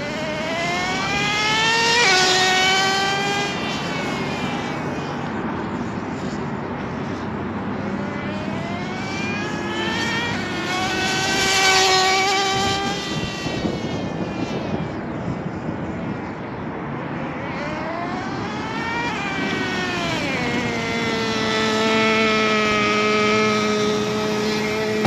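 A small HPI RS4 nitro RC car engine revving hard while being tested and tuned, its high, buzzing whine repeatedly rising and falling as the car passes by and speeds up, loud and continuous.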